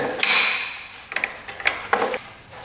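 Metallic clicks and rattles from a wrench loosening the last bolt on a motorcycle carburetor, a hissy rush at the start followed by several sharp, close taps and ratchet-like ticks.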